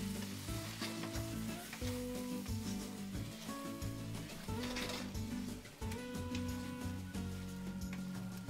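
Cauliflower masala being stirred in a hot pan after cooking covered until soft, a busy close sizzle with spoon scraping strokes under steady background music.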